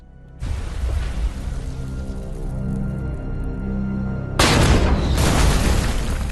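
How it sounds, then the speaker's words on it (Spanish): Allied artillery and bombing rain fire on a hilltop abbey in wartime: a loud, dense rumbling roar that begins abruptly and continues steadily, then jumps to a heavier, brighter blast of noise partway through, with no voices. "Mientras la lluvia de fuego aliada continuaba sobre la abadía, Brown y los demás Regina Rifles intentaron"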